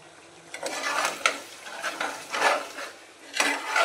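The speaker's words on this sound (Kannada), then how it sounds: "ನಂತರ ನಿಂಬೆ ಹುಳಿಯನ್ನು ಹಿಂಡಿ ಇನ್ನೊಂದು ಸಲ ತಿರುವಿ" Pepper chicken is turned in a hot pan after a squeeze of lemon juice, with repeated scraping stirs and soft sizzling in uneven bursts, close and moderately loud.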